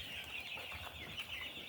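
Meat chickens in a farm barn at night keep up a steady chorus of soft clucking and chirping, a dense, even flock murmur heard throughout with no voices over it.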